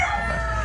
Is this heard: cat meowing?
no